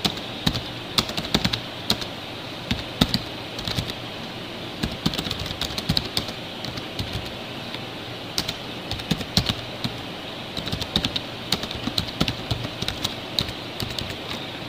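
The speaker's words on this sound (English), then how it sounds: "Here I can type in some explanatory text." Typing on a computer keyboard, a steady stream of close, crisp key clicks in irregular bursts with short pauses, lasting throughout.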